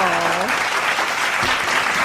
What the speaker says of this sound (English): let's give her a little nice clap.